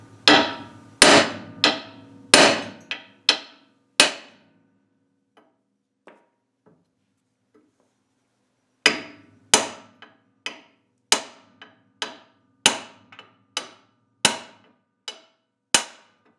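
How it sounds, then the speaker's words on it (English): Sharp metal-on-metal hammer strikes, one hammer hitting another, knocking out a ball joint on a Jeep JK; two rapid bursts of about eight loud close blows each, separated by a quiet pause with a few faint taps. "I'm going to put hammer on hammer again"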